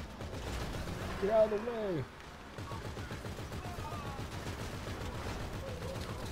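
Gunfire in GTA 5 Online rattling in rapid bursts through a busy in-game mix, with players talking and shouting over it.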